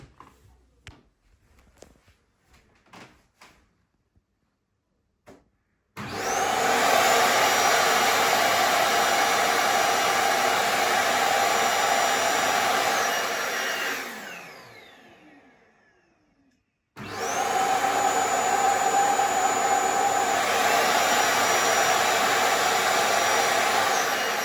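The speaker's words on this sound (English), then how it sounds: "it'll charge and also empty itself into the fusion base" A SwitchBot cordless handheld vacuum docked on its Fusion base station self-empties with a loud, steady whirring roar that runs about eight seconds, winds down, then starts again after a short pause, preceded by faint clicks.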